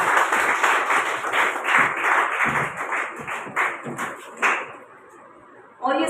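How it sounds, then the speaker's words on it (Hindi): Loud, close applause from a gathered audience welcoming a guest onto the stage, rising in bursts and thinning out, then stopping briefly before a final sharp flurry of claps. "जोरदार तालियों से स्वागत।"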